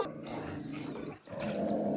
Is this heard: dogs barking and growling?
yes